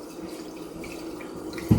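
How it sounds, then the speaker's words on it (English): Rice rinsed by hand in a pot under a running kitchen tap, a steady close stream of water with a brief louder splash at the very end. "So I'm going to rinse it under water twice until the water comes out clear."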